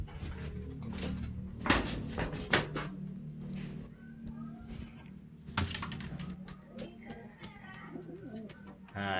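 Racing pigeons flutter and coo close by in a loft, with bursts of wingbeats and soft repeated coos over a steady low hum.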